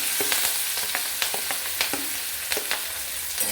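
Finely chopped green chillies frying in a pan over medium heat for tomato-chilli chutney, with a constant close sizzle and frequent quick stirring scrapes.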